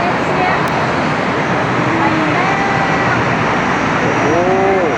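Airplane taking off at a Thai airport, a loud, steady roar of engines filling the clip with a broad rushing noise, with faint voices underneath.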